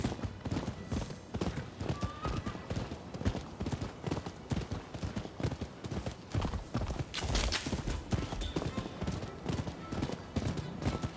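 Horse hooves clip-clopping in the samurai-era action game Rise of the Ronin, a steady rhythmic trot of hoofbeats close by, with an occasional faint whinny and brief game sounds mixed in.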